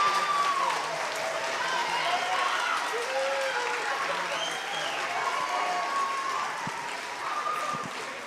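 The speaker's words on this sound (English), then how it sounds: "One more round of applause for Liberty Spark." An audience at a high school choir spring showcase applauds, with steady clapping filling the room throughout and voices calling out over it.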